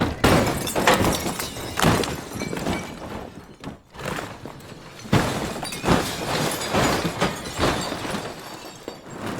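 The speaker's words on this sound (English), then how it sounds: "we loaded it up with crockery and things that can smash" Crockery and breakables smashing inside a caravan for a film sound effect: repeated loud crashes of shattering ceramic and glass, bursts of breaking with scattering debris and thuds, close and continuous with brief pauses.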